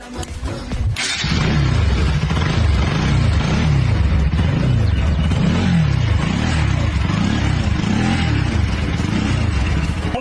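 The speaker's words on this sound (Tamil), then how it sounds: "இன்ஜின் கண்டிஷன் இப்ப ஸ்டார்ட் பண்ணி காட்டுறேன், எப்படி இருக்குன்னு பாருங்க." A Bajaj Pulsar NS200 motorcycle engine catches after a brief crank and settles into a loud, steady, throbbing idle close by.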